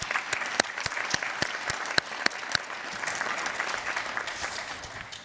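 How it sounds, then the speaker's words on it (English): An audience applauds at a nursing commencement and pinning ceremony, a steady dense wash of many hands clapping for several seconds, with a few sharper individual claps standing out near the front. "Please give them a round of applause."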